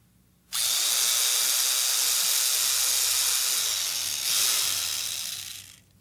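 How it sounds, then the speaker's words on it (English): An electric drill whirs steadily and close for about five seconds, with a brief rise in pitch near the end before it stops, heard alone with no talk. "Drill."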